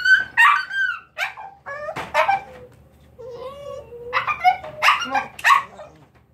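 A dog barks and yips in several sharp bursts with whimpering tones between them during hide training, loud and close, while a voice speaks briefly.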